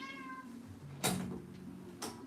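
A cat meows at a door, a drawn-out harmonic cry at the start followed by two sharp knocks or bumps against the door, all moderately close and unaccompanied by talk.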